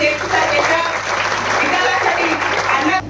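A crowd at a political election rally in Maval breaks into loud, sustained clapping that lasts the whole stretch, with voices mixed into the applause.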